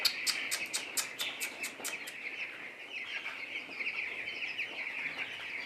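A flock of chickens at a poultry farm clucks and calls in a dense, continuous chorus, with a burst of sharp, rapid calls at the start and steady overlapping clucking throughout.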